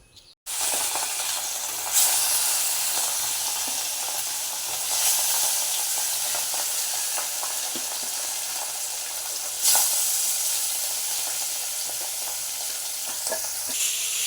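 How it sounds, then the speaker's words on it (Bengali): Fish and pointed gourd frying in a pan, a steady close sizzle with hiss and occasional stirring scrapes, starting abruptly and continuing throughout. "আর এদিকে হচ্ছে পটলটা একটু হালকা ভেজে নিচ্ছি"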